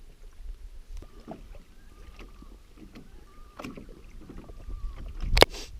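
A canoe paddle dips and strokes through still lake water in Algonquin Park, soft intermittent splashes and drips under light wind, with a sharper close knock near the end.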